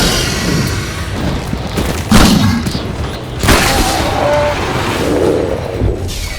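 Shotgun blasts in Shadow Warrior 2 combat: two heavy booming shots a little over a second apart stand out against a busy, noisy background of battle sounds.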